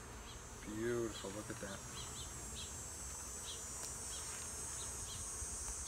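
Honeybees hum around a nucleus hive in an outdoor apiary, a faint continuous buzz with occasional nearer passes, while someone speaks briefly at the start.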